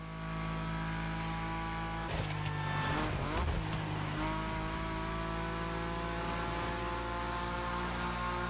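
A BMW M5 Drift Edition drifts in The Crew Motorfest, its engine droning steadily with a rising roar and tire squeal in the middle, then settling back to a constant hum.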